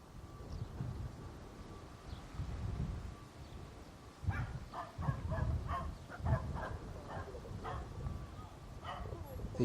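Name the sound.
dogs barking near the airport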